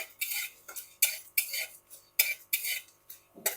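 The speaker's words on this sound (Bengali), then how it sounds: "কয়েক সেকেন্ড নেড়ে নেওয়ার পর এতে দিয়ে দেব দুটো শুকনো লঙ্কা" Whole cumin and dry red chillies stirred in a pan for ghugni, a spoon scraping in steady repeated strokes, close and fairly quiet, with no voices.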